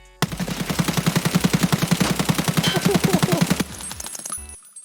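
Sustained full-auto rifle burst in Escape From Tarkov, a rapid even stream of about thirty loud close shots lasting over three seconds, then a short tail of clinks and silence.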